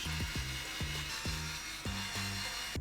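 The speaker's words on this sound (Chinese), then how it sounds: "卸掉功放板上所有的螺丝" A screwdriver working loose the screws on the amplifier board of an Edifier S2000MKIII desktop speaker, a repeated ratcheting, creaking rhythm of turns with short pauses, close and continuous.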